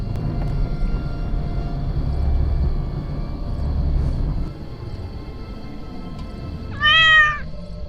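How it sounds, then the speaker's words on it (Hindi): White cat meowing at night near an old graveyard by an empty road, a single short meow rising near the end after a stretch of low rumbling background, fairly clear and close. "एकदम वाइट बिल्ली है यहाँ पे, एकदम सफेद बिल्ली है"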